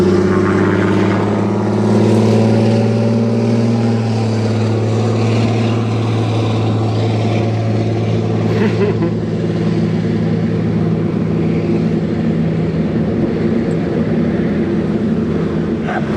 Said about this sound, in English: Going for the takeoff.